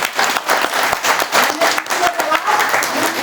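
Dense, loud audience applause at an RCM Pariwar gathering: many hands clapping steadily for the whole stretch, with crowd voices mixed in.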